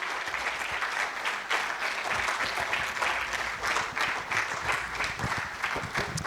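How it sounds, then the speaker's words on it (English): Sustained audience applause at an international pharmacy research conference, dense and steady clapping filling the hall as a professor makes his way to the podium, with a voice faintly audible beneath. "Keep on clapping until he gets to the stage."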